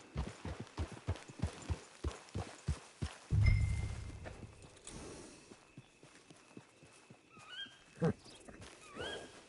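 Hooves of a horse in Red Dead Redemption 2 clip-clop in a steady walking rhythm, then a heavy thud and a faint whinny, fairly quiet and slightly distant.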